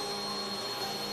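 A PS4 console's cooling fan whirs in a steady, loud broadband drone like a vacuum cleaner, with a faint high whine running through it, continuous and unbroken without any talk.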